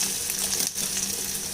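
Onions sautéing in a pan for a South Indian tomato kurma give off a steady, close sizzle that holds even throughout, with no voices over it.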